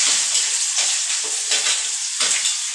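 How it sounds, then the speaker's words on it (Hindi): Onion added to garlic frying in a pan makes a dense, continuous sizzle with stirring scrapes and crackling pops, close and loud, with no voices. "अब मैं इसमें डालूंगी प्याज।"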